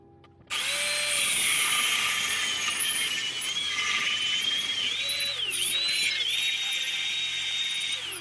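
Power tool cutting a part for a solar panel mounting structure, starting abruptly with a loud, high-pitched whining screech that holds steady and wavers slightly in pitch as the blade works through the piece, with no talk.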